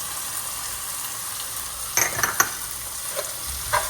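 Spoon stirring a frying meat sauce in a pan after sweet ground red pepper and a teaspoon of salt are added, with short scraping clinks over a constant sizzle, close and moderately loud, no speech.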